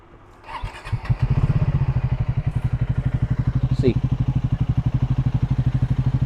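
A Triumph Scrambler 400X motorcycle engine cranks and catches, then settles into a steady, close, rhythmic idle thump that keeps going to the end.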